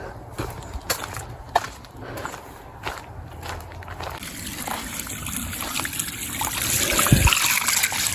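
Water drains out through a garden hose running outside, a continuous close trickle and gurgle with scattered soft knocks. It grows a little louder toward the end, and a few quiet words are spoken.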